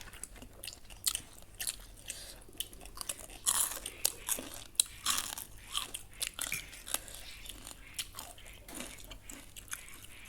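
Close, crunchy chewing and biting of Thai papaya salad (som tam), a steady run of wet crunches and mouth sounds throughout with no talking.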